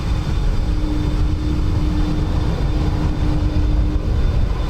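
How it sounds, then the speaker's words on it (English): An Aer Lingus Airbus A330, the airline's oldest, at Dublin Airport makes a steady, loud, low engine roar with a faint whine on top, continuous and unchanging throughout. "that's Kiva, Aer Lingus's oldest A330"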